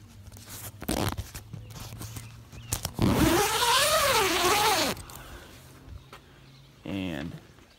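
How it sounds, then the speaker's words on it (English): A zipper on a fabric storage cover for a Honda Pioneer 1000 is pulled open in one long, close, raspy stretch lasting about two seconds, framed by a few short zip tugs and some talking. "It's got the zipper that you can unzip to get to the driver's side."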